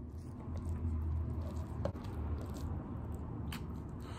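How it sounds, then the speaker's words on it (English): Close-up eating of chicken mango curry and lemon rice, soft wet chewing and squishy bites over a low steady background hum, with one sharper crunchy bite near the middle and no talking. "Let's get started eating."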